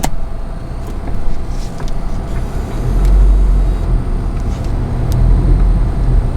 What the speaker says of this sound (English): so we're driving up to Digicel now.